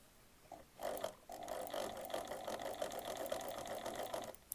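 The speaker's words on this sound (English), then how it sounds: "So I'm just going to slowly stitch." Sewing machine stitching a shirt collar during an upcycling project, a steady close mechanical whir running for several seconds after a brief start, with a click at the end.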